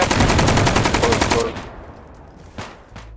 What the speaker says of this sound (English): decide to just start putting rounds through the fence onto the enemy